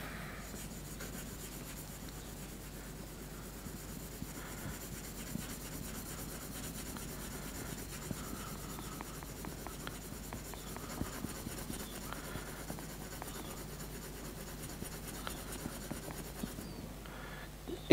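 Graphite pencil shading across drawing paper laid over a stack of sheets, a steady soft scratching rub that continues for the whole stretch at low, close level with no talk.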